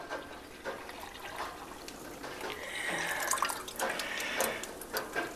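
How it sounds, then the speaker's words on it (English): Settled apple pectin liquid is poured into a big crock pot, a wet trickling and splashing that swells and fades in uneven gushes, close by and moderately loud. "we're just going to pour it into a big crock pot"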